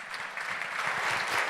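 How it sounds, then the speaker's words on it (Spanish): An audience at a seminar on metro growth in Latin America claps in sustained, dense applause, loud and even throughout with no pauses. "Un fuerte aplauso entonces a Iván"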